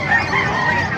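Poultry at a roadside market in Bocaue, Bulacan let out loud, close honking, squawking calls that overlap continuously through the moment, with busy market noise underneath.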